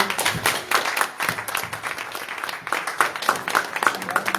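Scattered clapping from a small group at a meeting on reforming Sardinian democracy, uneven and close, with some background chatter mixed in over about four seconds.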